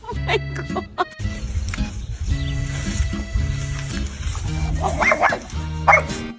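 A dog barks repeatedly in loud, close bursts indoors, the barks coming in uneven groups with brief pauses and some clucking-like yelps between them.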